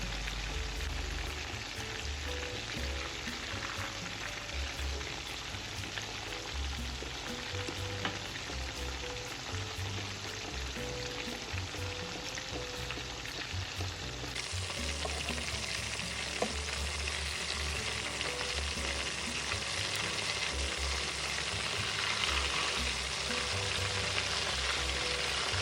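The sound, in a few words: meat patties frying in hot oil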